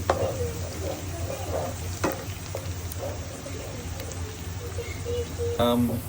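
Pieces of country chicken deep-fry in hot oil for biryani, giving a steady bubbling sizzle with occasional stirring clinks and a metallic knock near the end, while a voice talks over it.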